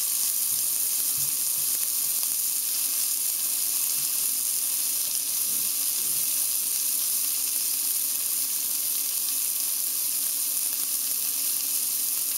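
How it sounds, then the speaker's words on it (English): A beef strip steak sizzles in a pan on the stove, giving a steady, loud hiss and crackle that runs unbroken throughout with no talking. "Nice sizzling piece of meat on the stove."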